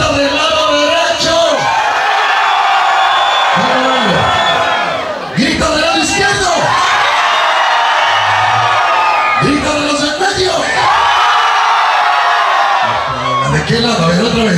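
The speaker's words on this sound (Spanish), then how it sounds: "¡Grita del lado derecho!" A concert crowd on the right side of a venue shouts and cheers loudly in long surging waves, several roaring swells rising and falling close by, with a few brief gaps between bursts.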